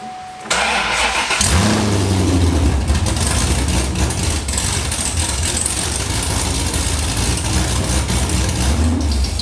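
A Corvette V8 with long-tube headers cranks briefly, fires up with a loud roar, then settles into a rough, rumbling idle with a small rev near the end.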